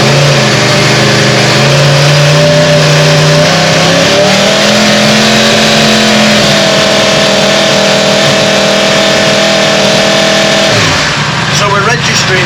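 A loud 2020 Yamaha R1M with a decat pipe and Akrapovic end can revs and holds at a steady high pitch around 4,000 RPM, climbing a little before dropping away near the end.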